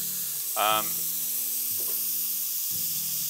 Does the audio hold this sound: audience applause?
no